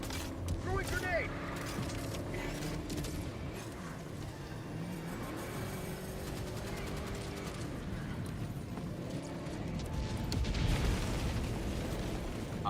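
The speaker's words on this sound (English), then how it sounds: "Throwing grenade." Grenade blasts in Helldivers 2 during a fight against Illuminate squid forces: heavy booming bursts rise out of dense, continuous game noise of gunfire and mechanical clatter, with the biggest blast near the end.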